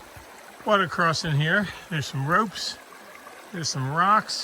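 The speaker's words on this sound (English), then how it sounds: "got a little water crossing here" A stream at a water crossing in the 100 Mile Wilderness on the Appalachian Trail trickles and burbles softly in the background while someone speaks over it.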